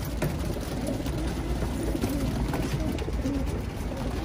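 Pigeons coo steadily in a crowded loft of imported racing birds, many soft overlapping coos blending into a continuous murmur close by.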